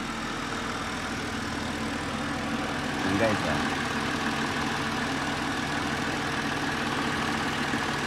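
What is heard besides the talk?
car engine idling smoothly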